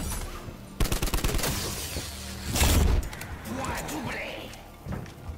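A rapid burst of automatic gunfire in Call of Duty Black Ops 4 zombies on the Tag der Toten map, followed by a thump and assorted clanks and whooshes of in-game effects.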